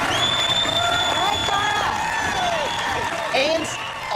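A studio audience at a junior cooking competition cheers, whoops and applauds as the contestants' parents come out, a loud sustained crowd roar with shouts on top and a voice talking through it.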